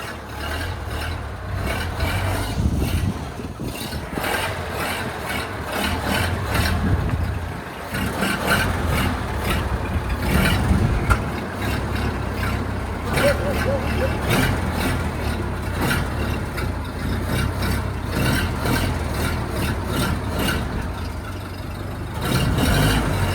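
A 1931 Ford Model A pickup engine idling while being parked, a steady low rumbling chug with slight surges throughout, close and moderately loud with no talking.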